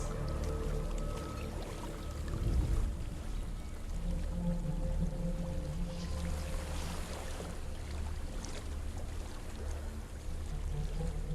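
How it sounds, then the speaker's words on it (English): A waterfall in the Hellblade video game pours and rushes as a steady broadband roar with low rumbling underneath, continuous and moderately loud, with no talking. "There's a waterfall."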